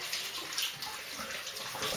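A Merkur Futur safety razor with a Feather blade is rinsed under a running tap, a brief, steady hiss of close splashing water without a break.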